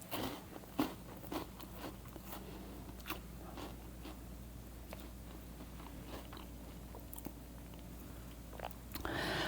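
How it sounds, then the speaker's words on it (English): Close, quiet crunching as someone bites into and chews a crunchy-shelled Costco snack, with irregular crisp cracks over a low room hiss. "Love the little outside crunch."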